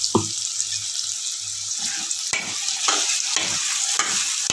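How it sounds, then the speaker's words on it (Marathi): Masala being sautéed with potatoes in a pan, a steady sizzle running throughout, broken by scraping stirs and occasional clatters of the spoon, close and alone with no voices. "सोबत हा मसाला पण परतणार आहोत तर म्हणजे आपले बटाटे लवकर शिजतील"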